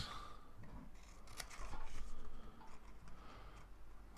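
Scissors snip through embossed Christmas card stock, giving a few faint, crisp clicks and cuts close by in a quiet room, with no talking.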